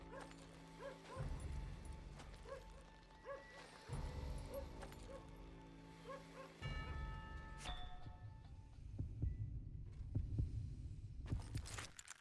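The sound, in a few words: heartbeat of enemy in duel, video game Call of Juarez: Gunslinger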